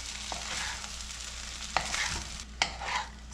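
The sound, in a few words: gently mixing rice into spiced brinjal mixture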